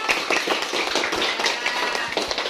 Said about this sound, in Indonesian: beri tepuk tangan untuk kelompok elang